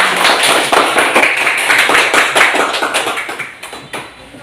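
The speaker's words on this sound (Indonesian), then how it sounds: "Tepuk tangan untuk" Schoolchildren applaud together in a classroom, a dense, steady burst of clapping that carries on for several seconds before thinning and fading out near the end.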